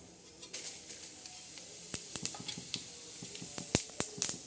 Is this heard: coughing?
no